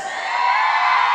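Women in a festival crowd at a patronal fiesta stage let out a loud, sustained collective shout, a bright massed yell holding steady for about a second.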